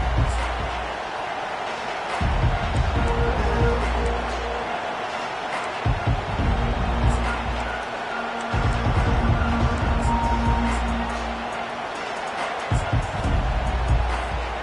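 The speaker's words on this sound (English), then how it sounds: "This crowd, full throat, splitting the eardrums" Stadium crowd noise in a college football video game, Alabama versus Texas A&M, a loud continuous roar swelling and easing over about fifteen seconds with broadband cheering; a commentator speaks over it.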